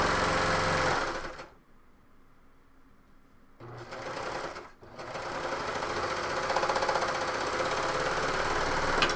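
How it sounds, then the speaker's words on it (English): A serger (overlock machine) runs along the bottom edge of a coat, making a loud, fast mechanical whir that stops briefly, restarts in short bursts, and then runs steady to the end. "I'm going to serge this bottom."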